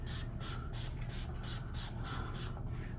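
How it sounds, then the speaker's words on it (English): Jane Carter leave-in conditioner sprayed through a section of hair during box braid takedown: about ten quick, evenly spaced spritzes from a pump bottle, close and crisp, with no talking. "go back to my Jane Carter leave-in conditioner and spray it throughout"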